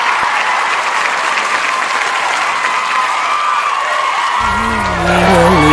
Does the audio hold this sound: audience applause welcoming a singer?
yes